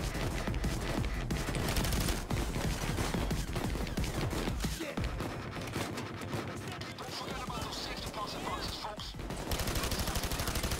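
Heavy, sustained gunfire in the heist video game Payday 2: dense, rapid bursts and overlapping shots that stay loud nearly throughout, with a brief thinning around the middle before firing resumes, and voices mixed in.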